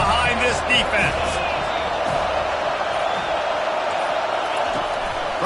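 A stadium crowd roars steadily in a college football video game against Notre Dame, a broad constant wash of cheering with a commentator talking over it.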